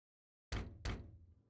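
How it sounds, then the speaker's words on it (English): Two firm knocks on a wooden door sound in a detective adventure game, close and resonant after silence, with a short decay. "Knock, knock."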